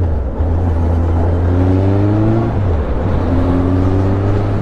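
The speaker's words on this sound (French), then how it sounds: "Je suis à 50, rétrogradage." Car engine at 50 km/h downshifting under engine braking without the brakes, a loud close drone whose pitch steps and slides as revs change, with no talking.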